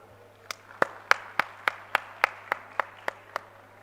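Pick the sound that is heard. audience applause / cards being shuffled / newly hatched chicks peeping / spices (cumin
audience applause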